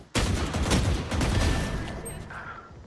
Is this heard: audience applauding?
no